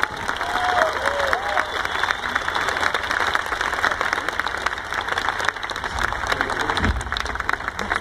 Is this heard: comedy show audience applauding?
yes